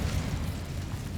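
Incendio fire spell cast in a Harry Potter video game, a dense roaring whoosh of flame bursting out with a low rumbling body, steady and loud for about a second with no voices.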